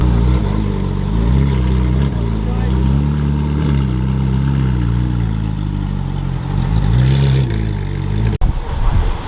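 A Ferrari 458 drives off from a Houston Ferrari festival, its engine holding a loud rumble with rising and falling revs and a brief sharp blip near the end, while people talk over it.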